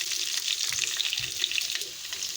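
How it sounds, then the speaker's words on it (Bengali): Potatoes frying in a wok, heard as a close, steady hiss and bubbling sizzle with light crackles, with no speech. "আলু ভাজা হচ্ছে"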